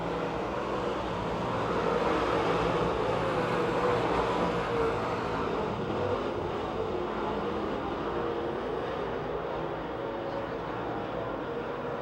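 Super late model race cars roar around the Pennsylvania Motor Speedway oval in Pittsburgh during a first heat race, a dense, steady wash of engine noise that holds loud throughout with no pauses.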